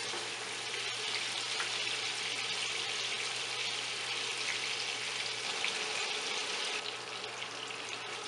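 Sesame koftas fry in a pan with a dense, even crackling sizzle of hot oil that holds steady throughout. A faint low hum runs underneath and no voices are heard.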